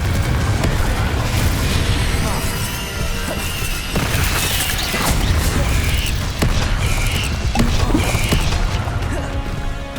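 Confringo, a fiery blast spell, is cast in the Hogwarts Legacy video game, giving loud booming bursts and crashing impacts over a dense, continuous roar of combat effects and rumbling low end.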